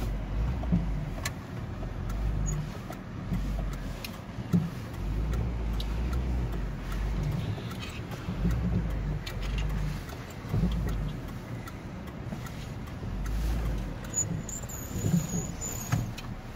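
Toyota Stout RK101 pickup truck driving, heard from inside the cab as a steady low engine drone and road rumble with faint ticking and rattles throughout, no speech.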